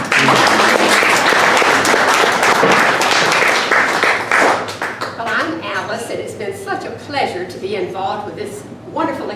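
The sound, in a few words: audience applause after a musical duet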